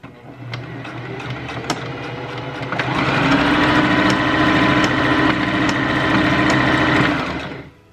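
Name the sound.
sewing machine stitching a scrunchie closed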